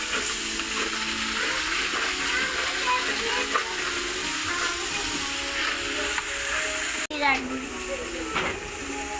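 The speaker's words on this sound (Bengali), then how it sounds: "এবার আমরা নাড়াচাড়া দিচ্ছি" Chili powder being stirred into biryani frying in a pan: a steady broadband sizzle with scraping stir noises runs throughout, broken by a brief sharp knock near the end.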